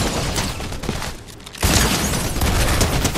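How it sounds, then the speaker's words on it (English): Explosive boom bolt crossbow shot in Fortnite Chapter 5, a burst of loud crackling blasts, a brief lull, then a heavy boom followed by a sustained rumble. "Nice boom bolt."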